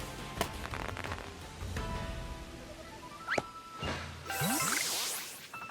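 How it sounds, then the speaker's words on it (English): Steady rain patters across the scene in Pokémon Legends: Arceus, a soft continuous wash under game music and chirpy creature calls, with a brighter burst of noise near the end. "is it ever going to stop raining?"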